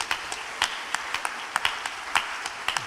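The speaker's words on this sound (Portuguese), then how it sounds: "Vamos dar uma salva de palmas para o Senhor" Church congregation applauding during a special worship service, a scattered, fairly quiet patter of separate claps with distinct sharp hits rather than a dense roar.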